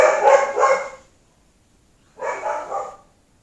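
Dog barking indoors in two separate short bursts, each a quick cluster of loud, close yaps, with a silent gap of about a second between them and no talking.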